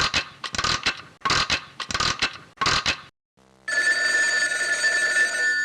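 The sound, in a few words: telephone ringing in public phone booth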